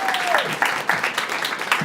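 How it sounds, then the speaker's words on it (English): An audience at an evening book launch applauds, a steady patter of many hands clapping at moderate distance, with a voice heard briefly over the start. "Give yourselves another round of applause, people."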